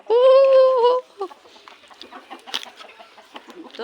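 A chicken gives one loud, drawn-out call up close, then softer scattered clucks and rustling from a small flock continue in the background.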